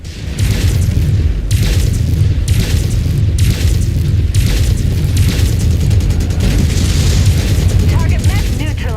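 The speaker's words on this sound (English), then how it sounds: "Incoming missile." A missile strikes in a mech combat video game, setting off a run of heavy, booming explosions that pound repeatedly at close range over a dense rumbling battle backdrop, with a voice heard amid the blasts.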